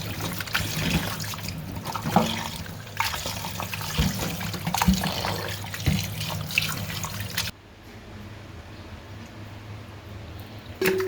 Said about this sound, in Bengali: সুন্দর করে ধুয়ে পরিষ্কার করে নিচ্ছি